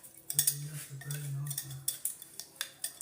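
A utensil scrapes and clinks against a bowl while turkey seasonings are mixed, giving soft, uneven strokes and a few light taps at close range.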